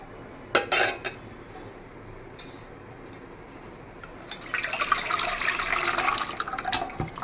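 Chicken pieces stirred with ginger garlic paste in a pan, with a few metal spoon clinks against the pan and then a steady sizzling frying hiss building up, close by and with no talk.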